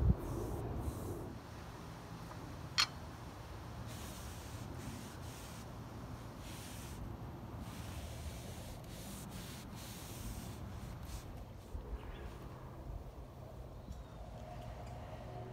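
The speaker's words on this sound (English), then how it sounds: "I'm going to stain and varnish this. And I'm going to do all 7 planks." Stain and varnish being worked onto seven wooden planks for a rustic outdoor dining table, heard as a steady, close rubbing and scrubbing of cloth or brush over wood that runs continuously with a few faint clicks and no talking.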